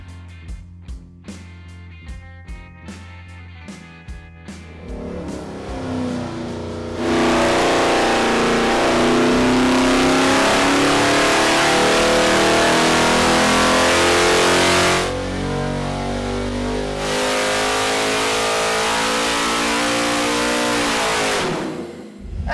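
A naturally aspirated 6.0L LS iron block V8 on an engine dyno during tuning: a few short idle blips, then a loud sustained roaring rev held for many seconds with a brief dip, before winding down.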